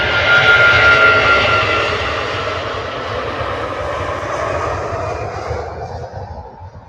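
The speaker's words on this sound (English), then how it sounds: "The noisiest engines." Aircraft engines of a plane at Manchester Airport roar loudly and steadily, a broad sustained rumble that slowly eases in strength as it continues without voices.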